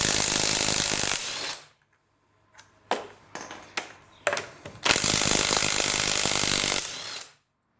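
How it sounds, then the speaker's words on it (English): A cordless impact wrench with a 3/4 inch socket hammers lug nuts off a 2002 Ford Taurus front wheel: long, loud rattling bursts at the start and end, with short, sharp clicks and clunks in between. "we'll use also the cordless impact wrench"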